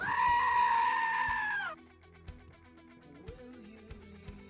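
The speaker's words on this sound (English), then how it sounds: "Why do I hear a goat screaming?" A goat screams in a loud, sustained bleat with strong harmonics for nearly two seconds, then cuts off, leaving a quieter background of faint clicks and low hum.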